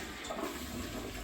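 A hotel-room toilet at a Walt Disney World resort flushes with a loud, continuous rushing swirl of water, close to the microphone, with no one talking.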